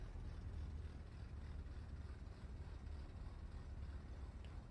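A Beechcraft Duke piston engine in Microsoft Flight Simulator idles as a low, steady, even rumble with a faint hiss, continuous and unchanging throughout.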